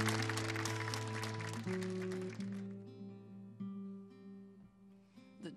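Audience applause for a singer on a Catalan TV show, starting loud and dense over sustained music notes, then thinning and fading as the music carries on.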